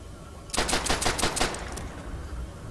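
Gunfire in Call of Duty: World at War bursts out as a quick volley of about six sharp, loud shots in rapid succession, followed by a fading ringing tail.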